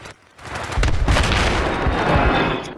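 Heavy gunfire and booming blasts roar continuously in a military video game battle, a dense loud barrage with tanks involved and no talk over it.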